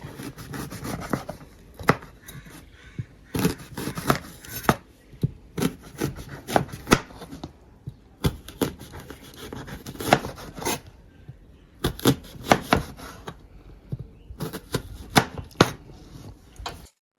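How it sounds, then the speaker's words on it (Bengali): Elephant apple (chalta) being thinly sliced lengthwise with a knife for pickle, giving crisp repeated cutting strokes in bursts with short pauses, close and fairly loud with no talking. "এভাবে পাতলা পাতলা করে লম্বালম্বি ভাবে কেটে নেব।"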